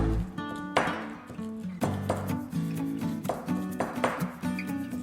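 Dry spices such as nutmeg and cinnamon being crushed for homemade vegan curry paste, a series of close rhythmic grinding and tapping strokes with a tonal hum, repeating roughly every second, no talk.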